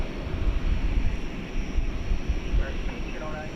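An American Airlines Airbus A321 at DFW airport at night gives off a steady, distant jet engine roar, with wind buffeting the microphone and a faint voice over the rumble.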